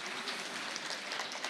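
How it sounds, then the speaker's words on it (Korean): An audience claps steadily at a geology park festival's teaching-materials competition, a dense, even patter of many hands filling the short moment without pause. "여러분 박수 한번 보내주세요"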